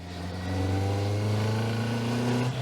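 Motorcycle engine held in first gear, revving steadily and loud at close range with a strong low harmonic drone, rising slightly before easing off near the end.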